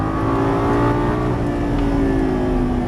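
A Lamborghini Gallardo LP550 accelerates out of a turn on a racetrack, its engine droning loud and steady with a rising whine as revs build, heard from inside the car.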